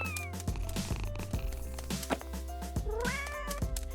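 A cat meows a few times over a busy background of music and clattering, with rising and falling cries toward the end.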